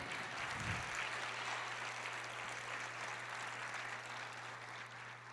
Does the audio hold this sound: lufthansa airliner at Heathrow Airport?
no